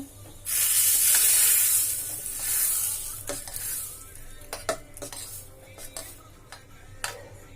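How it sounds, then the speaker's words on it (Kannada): Tempering spices for a chutney hit hot oil in a pan with a loud burst of sizzling, which settles into a softer crackle broken by spoon scrapes and clinks against the pan. "ಈಗ ಒಗ್ಗರಣೆ ಹಾಕೋಣ"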